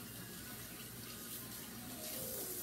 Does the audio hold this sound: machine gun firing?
no